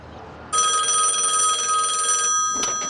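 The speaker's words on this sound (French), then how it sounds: "Ça va sonner." A telephone rings with a steady electronic bell tone, starting abruptly after a brief quiet moment and sounding continuously and fairly loud before cutting off, followed by a short clatter as if the receiver is picked up.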